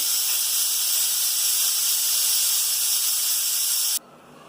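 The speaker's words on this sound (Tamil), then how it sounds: "2 விசில் வந்துருச்சு" Loud, continuous steam hiss from a pressure cooker of vegetable biryani releasing pressure, running steadily and then cutting off abruptly near the end, leaving faint room noise.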